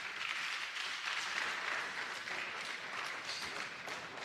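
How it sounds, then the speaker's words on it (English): An audience in a conference hall at a plenary session applauds the governor with steady, sustained clapping from many hands. It holds at an even level throughout and is slightly distant. "Can we applaud the governor?"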